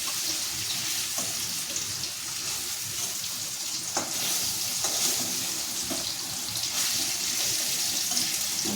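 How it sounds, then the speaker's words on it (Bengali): Paneer shallow-frying in a pan gives a steady broadband sizzle with scattered small clicks and crackles and an occasional utensil tap, continuous and close, with no voices. "এই যে পনিরটা ভাজা হয়ে গেছে"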